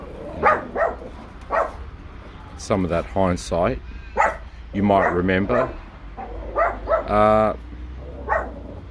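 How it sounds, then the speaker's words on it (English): Someone speaks while a dog barks several times nearby, the barks interleaved with his talking. "to the tune of a barking dog"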